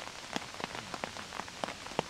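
Raindrops patter on a hard surface at night, scattered individual taps over a soft steady wash of falling rain, with no voices.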